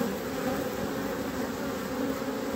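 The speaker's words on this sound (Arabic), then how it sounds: "يعني هو يقوم بإخبار النحل الآخر بوجود مرعى ويقوم بإطعام الآخرين" Honey bees crowd a feeding spot where one shares nectar and others take honey, a dense, continuous, close buzzing swarm that holds steady throughout with no voices.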